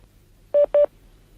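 Two short telephone keypad tones, each a clean steady beep, sound back to back during a call transfer against a quiet line.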